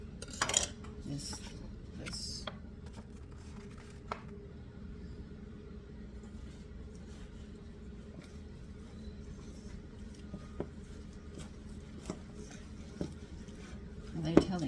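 A spoon clinks and scrapes against a bowl while mashed potato biscuit dough is stirred, with a few sharp knocks and a soft irregular scraping, under a quiet background hum.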